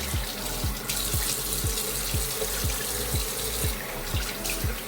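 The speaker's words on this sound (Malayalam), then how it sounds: "ഒന്നും കൂടി ചുമ്മാ വെള്ളം ഒഴിച്ചിട്ട് കഴുകാം." Running tap water splashing into a sink as the face is rinsed during makeup removal, a steady close rush broken by rhythmic splashes and no talk.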